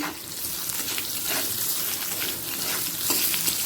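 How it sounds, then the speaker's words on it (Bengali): Panch phoron, dried red chillies and cut mango pieces frying in oil for a Bengali fish dish, a close, even crackling sizzle with a few soft stirring scrapes, steady and fairly quiet. "ওই একই তেলে দিয়ে দিচ্ছি পাঁচ ফোড়ন আর শুকনো লঙ্কা"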